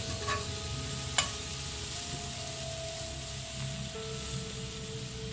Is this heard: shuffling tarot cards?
no